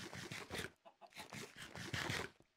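Chickens in a Minecraft-style game cluck in a quick, choppy series of close, loud clucks filling the whole stretch.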